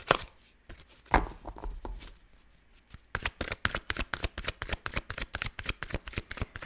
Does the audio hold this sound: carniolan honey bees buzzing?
no